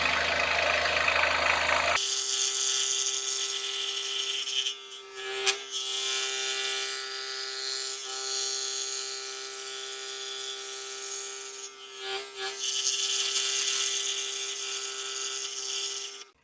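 A saw blade cuts slowly through the wood of a box, a continuous buzzing, rasping whine with a steady tone, close and loud, with brief dips as the cut eases into a corner.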